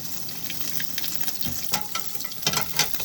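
Olive oil, about two tablespoons, crackles and sizzles steadily in a hot pan on the stove, with sharper pops and spatters growing toward the end, close up and without speech.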